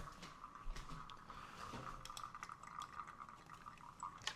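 Water, 450 millilitres for coffee, is poured in a quiet kitchen, making a faint continuous trickling with small splashes, heard alone without talk.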